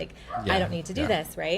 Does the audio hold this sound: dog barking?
yes